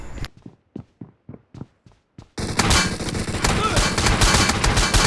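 Shotgun and pistol gunfire in a shooter video game: a string of about eight sharp, evenly spaced shots, then a dense, loud barrage of rapid firing and clatter.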